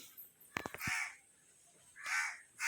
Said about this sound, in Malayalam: ഗാലറി കാക്കകൾ